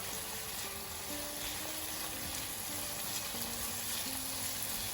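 Saffron lemon risotto rice sizzles in a frying pan while being stirred continuously after champagne and lemon juice are added, a close, steady frying hiss with faint scraping.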